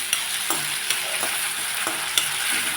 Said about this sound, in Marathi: आता याला छान मिक्स करून घेते मी